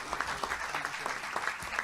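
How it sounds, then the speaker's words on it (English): Steady applause from a crowd at a White House press briefing, dense clapping filling the whole stretch at a moderate, even level. "How about another round of applause"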